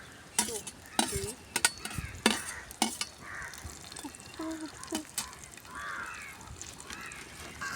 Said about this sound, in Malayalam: ഒന്ന് ഇളക്കി കൊടുക്ക്. അപ്പം അമ്മ ഇളക്കുണ്ട്.